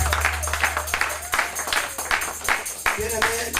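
A church congregation claps for the Lord in a steady, rhythmic beat of roughly two claps per second, full and close, over sustained music and voices.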